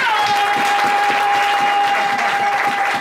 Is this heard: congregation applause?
yes